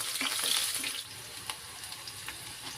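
Chopped onions sizzle in hot oil in a cooking pot, crackling loudly at first and then settling into a softer, steady fizz with small pops.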